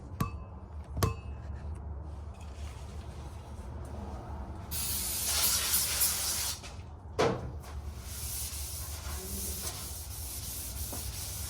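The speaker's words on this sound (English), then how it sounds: "About to spray some brake clean on a rag." Brake cleaner sprayed from an aerosol can onto a rag during sheet-metal work on an S10 dash, a steady hiss lasting a couple of seconds, then a short second burst, with workshop noise around it.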